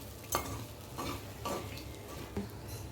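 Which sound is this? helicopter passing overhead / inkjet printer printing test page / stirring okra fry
stirring okra fry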